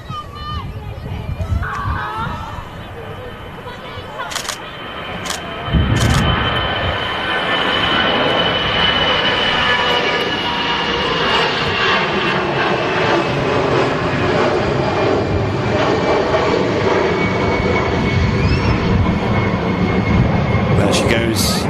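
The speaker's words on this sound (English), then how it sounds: "Austrian A320. Blasting out of Manchester Airport" An Austrian Airlines A320 taking off from Manchester Airport, a loud jet engine roar that swells and holds steady as the plane accelerates, with a person talking over it early on.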